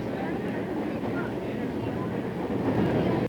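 A passenger train pulls into Litchfield station with a steady, continuous rumble of wheels and cars, loud and close throughout and building slightly toward the end.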